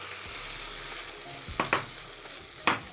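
Cooked red kidney beans being stir-fried with rice in a hot pan: a steady sizzle with a few sharp spoon scrapes and stirring clatters near the end.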